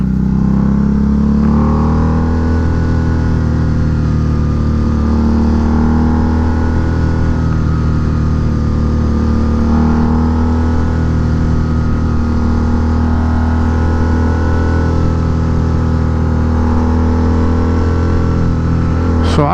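A 2006 Harley-Davidson Night Rod runs steadily nearby, a loud continuous engine drone with slight rises and falls in pitch, no talk over it.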